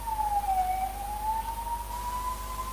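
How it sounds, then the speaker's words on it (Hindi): An ambulance siren wails outside during a poetry festival performance in Shimla, a single sweeping tone rising and falling slowly, moderately loud and steady against a low background rumble, with no talking. "एम्बुलेंस ही निकली।"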